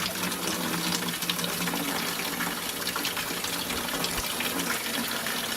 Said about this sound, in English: the water goes down into a 5-gallon bucket